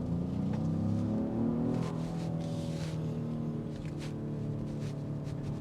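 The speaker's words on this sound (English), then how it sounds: "You get the exhaust that filters in. It's a nice soundtrack." A 2025 Genesis GV80 Coupe twin-turbo engine and exhaust under acceleration, a steady, rising drone heard from inside the cabin, continuous and fairly loud with no talk over it.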